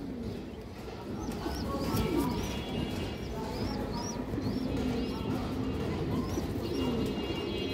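Pigeons cooing in a loft, repeated throaty coos and occasional chirps from several birds nearby, steady and close for the whole stretch, with no talk.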